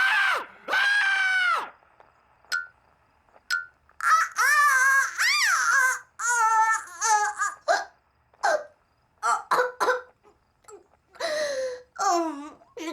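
A cartoon ghost voice imitates pained, ghostly cries with wavering high wails, sobs and hiccup-like gasps, in short separate bursts with silent gaps between them, up close and fairly loud.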